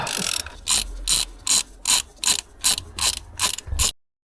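Ratchet clicking in eight or nine short, regular bursts while the timing cover bolts come off a 162k-mile VW Golf, close and fairly loud with no talking, then it stops abruptly.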